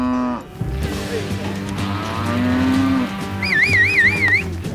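Cattle being herded on a Texas ranch as cows are separated from their calves, with loud drawn-out moos rising and falling over a low steady engine drone, and a high wavering tone near the end.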